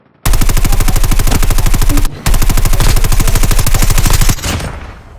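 Rapid automatic gunfire from a video game, loud and continuous in two long bursts with a brief gap near the two-second mark, trailing off at the end.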